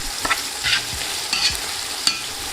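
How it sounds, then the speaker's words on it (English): Onions frying in a pan while being stirred, a continuous close sizzle broken by a few quick scraping strokes and light utensil clinks, no talking. "Give that a mix. We're looking for a dark golden brown color on these onions."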